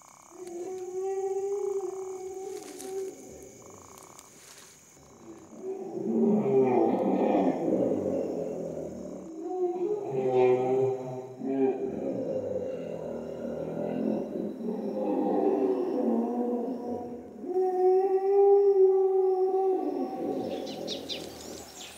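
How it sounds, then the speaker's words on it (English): Hippos fighting at night in the wild: repeated deep, harmonic bellowing and groaning calls rise and fall in long bursts across the whole stretch, loud and fairly close, with no talk. "Hippos, you hear?"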